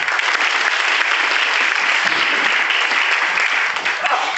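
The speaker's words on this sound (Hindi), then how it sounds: "ये प्यारी सी टीम आप अपने लिए शानदार तालियां बजा सकते" A banquet-hall audience at a motivational show claps for a team in steady, dense applause that stays loud and close from start to finish, with no voices rising above it.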